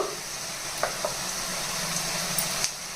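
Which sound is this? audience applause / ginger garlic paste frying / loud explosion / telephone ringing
ginger garlic paste frying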